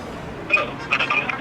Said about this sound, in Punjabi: ਅਸੀਂ ਹੁਣ ਤੁਹਾਡੇ ਸਾਹਮਣੇ ਇਹਨੂੰ ਫੋਨ ਵੀ ਟਰਾਈ ਕਰਦਾ